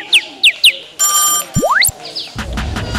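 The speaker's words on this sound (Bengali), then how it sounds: "আমার ফোন আইছে" A mobile phone ringtone plays nearby, a few short chirps followed by a sustained tone and a rising sweep, loud and clear before other sounds take over.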